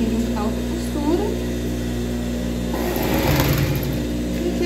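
Sewing machine stitching a child's dress, giving a steady, close mechanical whir with a constant hum throughout and a brief louder rattle near the end. No speech is heard.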